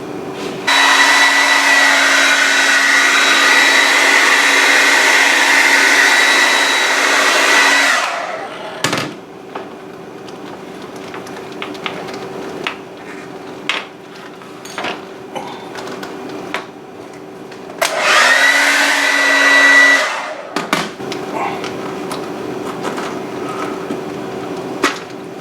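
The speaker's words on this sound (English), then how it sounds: "I think if I heat this up with a hair dryer," A hair dryer heats a bracket on a 1989 Matchbox talking Freddy Krueger doll, a loud steady whir that runs about eight seconds, stops with clicks and handling noise, then blows again briefly before cutting off.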